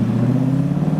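TVR S3 sports car, its engine sounding like a V8, revving loud and close with a steady deep, rumbling drone as it leaves a car show, no voices over it.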